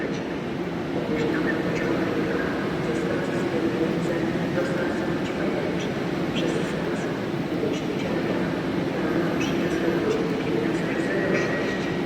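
A train stands at Łódź Widzew station, its idling hum and rumble steady throughout, with faint chimes and door sounds as doors close before departure.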